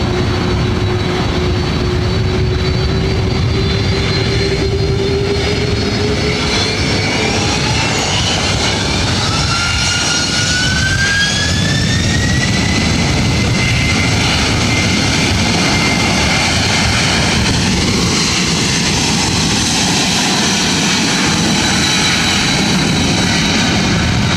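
A Delta jet airliner takes off from runway 24 right at LAX, a loud continuous engine roar with rising whining tones that builds and sweeps across the whole clip, with no voices.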